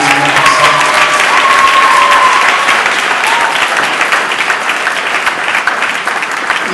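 A church service audience claps loudly and continuously, with cheering mixed in. The applause is dense and close, holds steady, then eases slightly toward the end.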